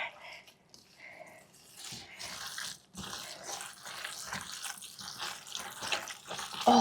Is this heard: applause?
no